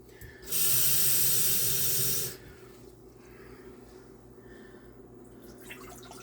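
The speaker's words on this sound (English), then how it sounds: "let me get the stove turned on and some water in here." Tap water gushes loudly into a cooking pot at a kitchen stove for about two seconds, a bright rushing hiss that cuts off, followed by quieter room noise with faint clinks.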